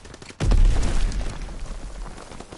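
A grenade detonates in Call of Duty WWII, a single heavy boom with a sharp onset and a rumbling tail that fades over about two seconds.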